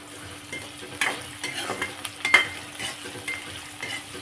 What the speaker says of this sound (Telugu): పచ్చిమిర్చి వెల్లుల్లి వేసి వేయిస్తాను